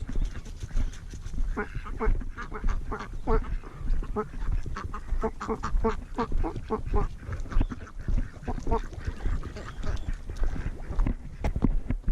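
Ducks quack by a fishing pond at Gibson Ranch in a busy, repeated chorus of nasal calls, with scuffling footsteps and outdoor noise mixed in throughout.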